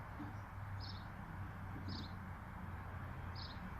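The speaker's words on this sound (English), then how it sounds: "Hear the birds chirping." Faint bird chirps repeat about once a second over a steady low outdoor hum, with distant traffic-like rumble underneath.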